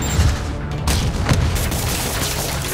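Rocket blasts thunder in the Marvel's Spider-Man video game, with a few sharp booming impacts in quick succession over a steady loud rumble of action.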